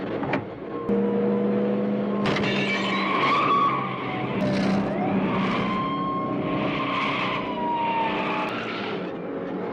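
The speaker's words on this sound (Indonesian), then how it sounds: "polisi pun kembali mengejar Rambo dan aksi kejar-kejaran pun terjadi." Tires squeal and engines roar as police cars chase Rambo in the film First Blood, with long skidding screeches and revving that rise and fall over a loud, continuous driving roar.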